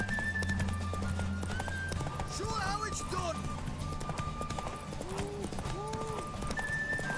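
A horse in The Witcher 3: Wild Hunt gallops steadily with rapid rhythmic hoofbeats throughout, accompanied by snorting and whinnying, all under continuous game music and voices.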